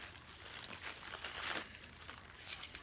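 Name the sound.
unwrapping packaging of a Michael Kors purse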